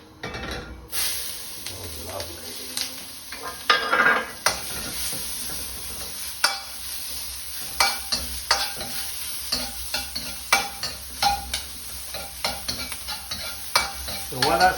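King prawn kwai diew is stir-fried in a hot wok with a loud, continuous sizzle, broken by repeated scraping stirs and metallic clinks of the utensil against the pan.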